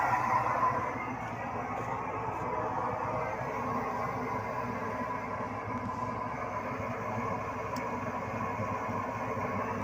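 Tractor engine idling while warming up at a steady low rumble, running continuously and fairly loud, with no voices.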